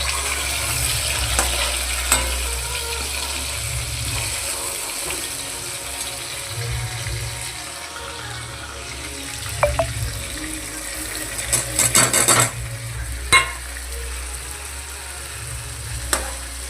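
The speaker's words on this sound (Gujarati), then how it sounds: "ચાલો આપણે વઘાર કરીએ." Spices and chopped onion and tomato spluttering in hot oil in a pan as a vaghar is made for cauliflower sabji, a steady close sizzle with a few sharp clinks of utensils.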